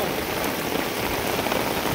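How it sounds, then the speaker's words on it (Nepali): A heavy downpour during extreme rainfall with a flooding stream nearby: a dense, constant roar of rain striking surfaces, close and unbroken, with no talk. "पानी पर्नु छोडेको छैन झन् झन् पानी दर्किँदैछ"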